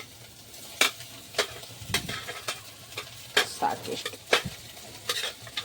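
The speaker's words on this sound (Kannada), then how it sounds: "2 ತತ್ತಿ ಹಾಕಿ ಸದ್ಯಕ್ಕೆ ಫ್ರೈ ಮಾಡ್ಕೊಂಡ್ರೆ ಇದ್ರಾಗ ಈಗ ಬೇಕಾದಷ್ಟು ರೈಸ್ ಹಾಕೊಂಡು" Eggs and rice sizzle in a hot pan as a spatula stirs and scrapes in irregular sharp strokes, fairly quiet and close, with a few brief spoken words.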